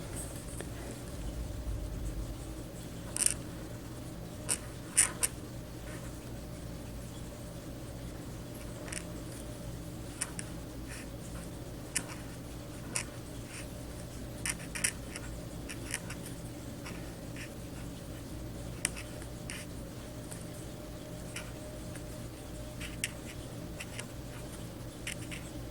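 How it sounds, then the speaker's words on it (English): A Cold Steel Pocket Shark pen writes on notepad paper with faint, soft scratching strokes and scattered light taps, quiet and close. "here's a notepad, piece of notepad paper. And we'll show you how this thing writes."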